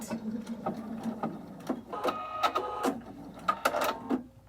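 A Viking Amber Air sewing machine stitches makeup wipes, running in a steady rapid mechanical chatter with repeated needle thumps, fairly close and continuous, then winding down near the end with no speech.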